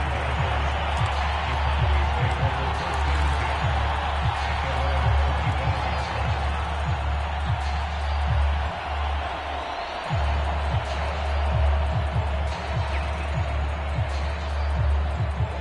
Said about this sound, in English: They've got their home crowd into it as well.